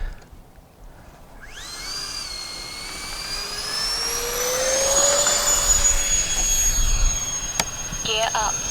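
An FMS A-10 Thunderbolt V2 RC model jet spools up and takes off from a grass field, its electric ducted-fan whine rising steadily and growing louder over several seconds, with outdoor ambience and a brief click near the end.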